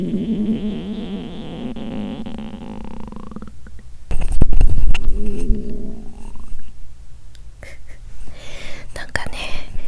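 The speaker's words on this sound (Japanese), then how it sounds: "すっごいお腹が鳴り始めた" A person's stomach, lying sideways under a warm futon, rumbles loudly and close by in long gurgling, groaning swells with rising squeaks, while faint whispering runs underneath.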